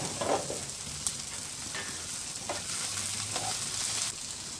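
Bitter gourd pieces with salt cook in a pan over a low flame, giving a steady close sizzle with a few soft stirring clicks and no voices.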